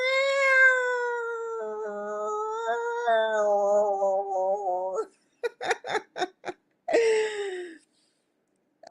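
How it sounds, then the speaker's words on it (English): Cats fighting, with long drawn-out yowling caterwauls followed by a burst of short sharp hisses and spits, then one more wail before silence, heard alone at moderate distance. "This is just a cat fight."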